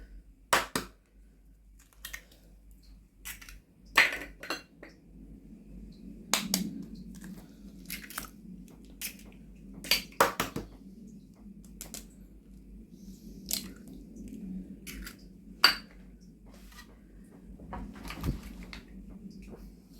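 Sugar and eggs being stirred together in a bowl for apple madeleines, heard as soft, irregular clicks and scrapes of the utensil against the bowl over a low steady hum, fairly close and quiet, with no talking.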